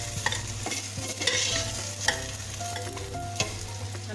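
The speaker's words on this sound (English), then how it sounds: "I'm going to add 150 grams of lentils, and then just give that a good mix." Lentils being stirred into soup in a pot, a continuous scraping, swishing mix with sharper spoon knocks scattered through it, close and steady with no talking.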